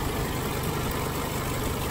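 A Mercedes A150 engine idles steadily and quietly in good running condition, a smooth continuous hum with no talk, heard close and even throughout.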